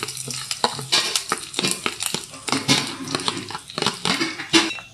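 Grated coconut and curry leaves fry in a pan with a steady sizzle, while a utensil scrapes and stirs repeatedly against the pan up close.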